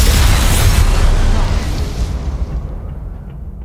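A spell cast in the Hogwarts Legacy video game lands as a loud, dense boom-like blast that rumbles at full strength for about a second and a half, then thins into a fading, softer wash.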